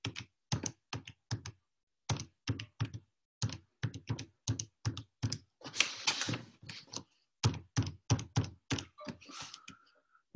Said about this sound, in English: Hopefully I'm not making a mistake, typing anything in.